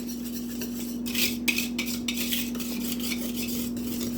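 A spatula stirs chocolate sheet cake batter with a beaten egg in a bowl, giving soft, steady scraping and sloshing strokes with a few louder clinks against the bowl, close by over a constant low hum.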